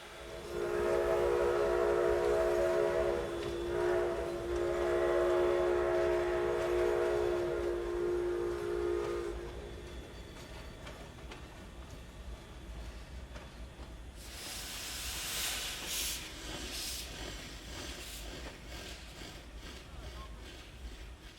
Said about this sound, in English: the crew will perform an air brake test on the train